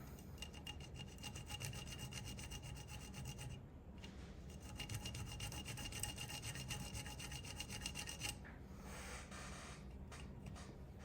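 Filing and polishing a Black Aces bullpup rifle trigger, steady rhythmic rasping strokes repeated back and forth, close and fairly quiet, with a brief pause midway.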